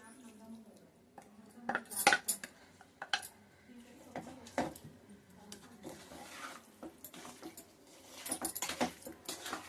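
Chicken pickle is mixed with lemon juice in a bowl, bringing scattered clinks and scrapes of a spoon against the dish in uneven bursts, close but quiet, with faint background sound between strokes.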